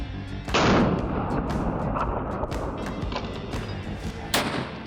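Marlin Dark Series lever-action rifle with a radial muzzle brake firing outdoors, a sharp loud blast followed by echoing rumble, with a couple of further distant cracks and a second sharp shot near the end.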